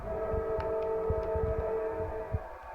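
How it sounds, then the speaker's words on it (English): A steady, sustained football match siren in a PS3 Australian rules football game (Gold Coast Suns vs Adelaide Crows) drones on at moderate volume, with faint crowd-like rumble and thumps beneath it. "Waiting for the siren now."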